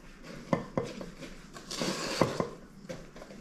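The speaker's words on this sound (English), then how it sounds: "now, just hand stir it to make sure it's all up in there" Caramel chocolate chip cookie dough stirred by hand in a bowl, giving close, quiet scrapes and several sharp utensil knocks against the bowl's side at an uneven pace.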